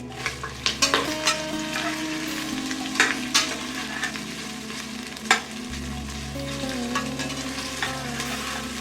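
Onions and spices frying in a pan for Hoskote-style dum biryani, a loud close sizzle with repeated sharp stirring clinks and scrapes, plus a low steady hum from a stove or fan underneath.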